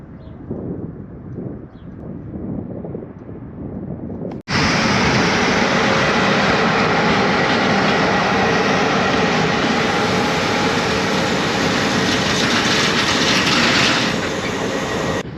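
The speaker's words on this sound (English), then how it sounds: "This is just a passenger train going by." A passenger train roars past close by in a rail yard in Montenegro, a loud continuous rumble and rattle of rail cars that starts abruptly and holds steady.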